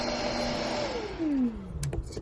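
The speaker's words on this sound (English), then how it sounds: "you can even vacuum some of the hair that your dog leaves on your house, like the sofa or your living room" A dog grooming vacuum with a two-litre cup whirs steadily close by, its motor pitch sliding downward as it winds down, followed by a few brief clicks.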